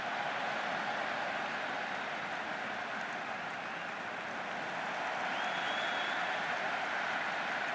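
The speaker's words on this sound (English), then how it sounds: "There's an almost tangible fervour throughout the crowd at the moment." A stadium crowd in the Cricket 26 video game, at an England vs Australia T10 match under a roofed stadium, gives a steady, dense roar of cheering and applause that fills the whole stretch at an even level.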